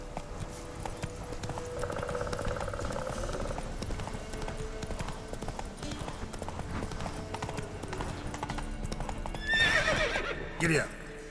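Hooves clip-clop and a horse whinnies loudly near the end in The Witcher 3: Wild Hunt, with the rhythmic galloping running throughout under a player's voice.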